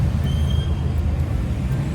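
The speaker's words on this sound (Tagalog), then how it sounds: "Traffic." Steady road traffic in Santa Rosa, a dense continuous rumble of engines and tyres with a constant low roar and no single vehicle standing out.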